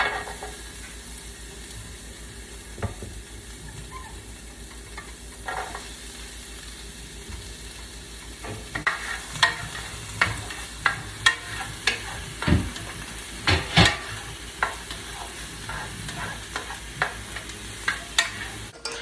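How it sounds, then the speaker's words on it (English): Onions sautéing in a pan at home, a steady sizzle that builds as a utensil scrapes and stirs, with sharp clanking stir strokes recurring near the end. "I'm about to saute the onions before I put the meat in"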